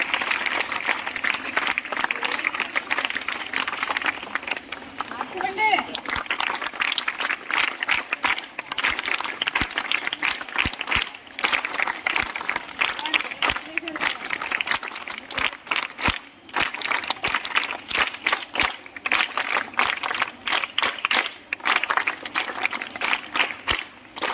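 An audience at a stage event claps together to welcome guests, a dense, sustained round of applause that holds steady throughout, close and moderately loud, with faint voices mixed in.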